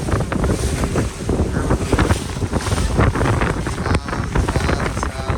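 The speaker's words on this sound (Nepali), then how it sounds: "समुद्री छाल" Sea waves wash and break continuously on a beach in Goa, with heavy wind buffeting the microphone throughout and no clear talking.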